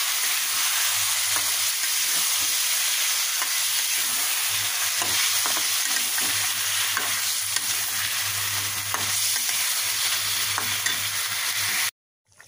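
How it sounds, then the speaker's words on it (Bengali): Quail meat frying with potato and spices, stirred in a pan: a steady, loud sizzle with scraping and stirring clicks throughout, then sudden silence in the last second. "এখন মাংসগুলো দিয়ে মাংসটাকে কষিয়ে নিই।"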